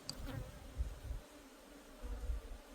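Honeybees hum faintly at an apiary hive during a September inspection, a low, even buzz with slight swells and no speech.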